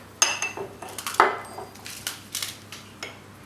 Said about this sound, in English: So we start by adding the meat to the pot.